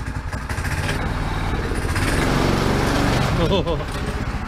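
Small Leroy Jr vehicle engine, newly given more horsepower, revving loudly and steadily close by, pitch rising toward the end.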